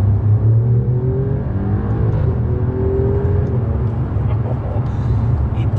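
Alfa Romeo Giulia Quadrifoglio in dynamic mode, heard from inside, with a loud, continuous engine drone that rises and falls in pitch as it revs and shifts, with no talk over it.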